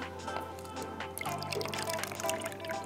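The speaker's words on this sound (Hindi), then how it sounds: "मेजर करके ऑरेंज जूस डालेंगे।" Measured orange juice poured while making orange ice cream, a faint, soft trickle and dripping, fairly quiet and close.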